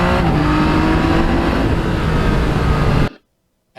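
A 2020 Yamaha MT-09 motorcycle accelerates hard through its gears using the quick shifter, with a loud, steady engine roar close by that cuts off abruptly into silence.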